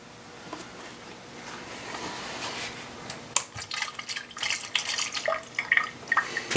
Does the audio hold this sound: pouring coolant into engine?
yes